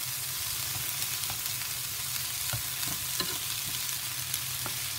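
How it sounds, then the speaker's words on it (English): Onions tossed into a pan and frying with potatoes in a vegan breakfast scramble, a continuous close sizzle over medium heat with scattered small pops and crackles throughout, no talking. "Now I'm going to go ahead and add my onions to it. And toss these in."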